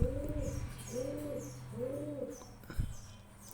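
Giribaz pigeons cooing close by in a loft, three rounded, rolling coos in steady succession with a soft flutter near the end, no talking.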